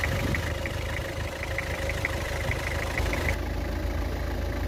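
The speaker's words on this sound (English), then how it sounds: "Okay pa itong andar ng makina niya." A Toyota Prado engine idles steadily at close range, a continuous even rumble with a faint mechanical whine running through it and no voices.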